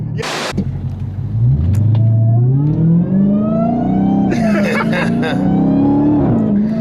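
A Dodge Hellcat V8 fitted with a Legmaker intake revs hard, a loud rising and falling engine note with a sharp intake whine near the end; people exclaim briefly at the start.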